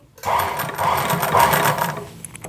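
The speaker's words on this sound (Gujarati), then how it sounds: "હવે છે ને આપણે અહીંયા આ સિલાઈ પૂરી કરી" A sewing machine stitches a fall onto a sari in a close, loud, steady whirring run of about two seconds, starting abruptly and slowing to a stop with a few light clicks. No one speaks.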